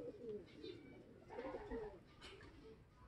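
A racing pigeon cooing close by, soft low throaty coos in two short bursts at the end of a long-distance race, with quiet background noise.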